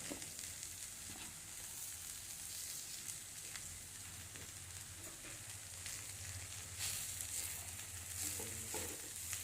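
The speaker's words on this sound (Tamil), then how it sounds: "இனி இதில் இந்த அரிசி மாவு கொஞ்சம் ஊற்றி நல்லா கிளறி கொடுக்கணும்" A banana stem stir-fry being stirred with a little rice flour in a pan, giving a soft, steady sizzle with faint scraping and stirring, quiet and continuous without talk.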